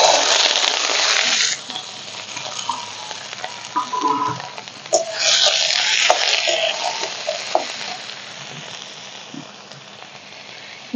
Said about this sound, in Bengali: তো এই আলু বেগুন আর সঙ্গে দেবো 4টে কাঁচা লঙ্কা, একসাথে সব ভেজে নেব তেলে।